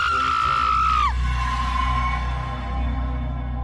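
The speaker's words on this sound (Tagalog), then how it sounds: "pumailan lang sa ere ang isang malakas na sigaw." One loud, drawn-out scream cuts off sharply about a second in, then gives way to a sustained, dark ambient drone that carries the rest of the time.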